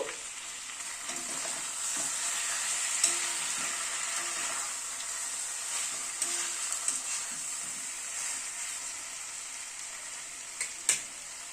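Chicken sizzles steadily in a pan while it is slowly cooked, with occasional scraping and clinks of a spatula stirring it, close and moderately loud with no talk.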